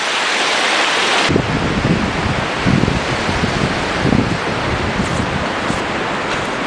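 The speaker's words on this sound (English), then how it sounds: "We're down out of the wind. You can still hear it in the trees above us." Strong wind rushes through trees overhead near El Chalten in Argentine Patagonia, a steady, full roar that rises and falls slightly in gusts.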